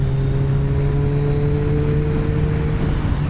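A Kawasaki motorcycle engine, a GTR1400 or Z1000SX, holds a loud, steady, close-up drone under throttle, its even pitch holding without a clear rise.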